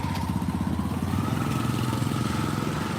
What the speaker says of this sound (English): that tuk-tuk would have just ran me over if I didn't stop